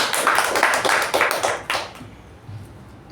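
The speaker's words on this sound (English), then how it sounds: "Let's give him a round of applause." A small Toastmasters meeting audience claps for a speaker in a brief, fairly close round of applause that fades after about two seconds into quiet room tone.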